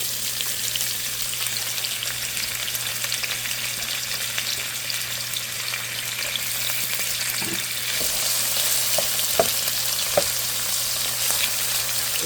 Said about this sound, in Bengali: তেলটা গরম হয়ে গেছে, এখন আমি পেঁয়াজটা দিয়ে দেবো।